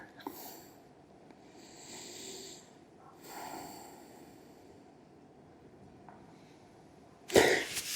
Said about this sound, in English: I would just keep deep breathing for 2 minutes.